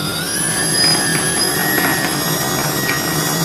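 Motors of a Multiwii Pro EZ 3 foldable tricopter spin on the floor with a steady, loud, high-pitched whine over a broad whooshing hiss, holding constant throughout without speech.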